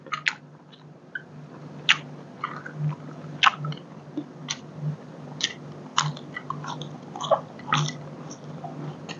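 Someone eats som tam with pickled shrimp and crispy fried pork belly, with close, crunchy bites and wet chewing in irregular bursts over a quiet background.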